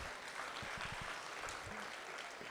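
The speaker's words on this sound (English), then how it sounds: "let's give your intermediate champions a nice round of applause there for their top 10" Faint, distant applause from a crowd at a state fair market hog show for the intermediate champions, soft and brief, with a few nearby thumps.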